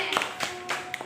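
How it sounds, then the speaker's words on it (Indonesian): Students in a classroom give a few scattered, separate claps for their classmates, four or so sharp hand slaps spaced unevenly over about a second, close and fairly quiet. "Silakan tepuk tangan untuk teman-temannya."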